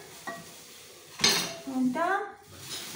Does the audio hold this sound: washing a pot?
yes